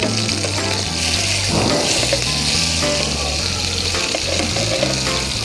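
Chicken pan-frying for a pan-grilled chicken with mushroom sauce, a loud, steady sizzle close up with crackling oil throughout and soft background music.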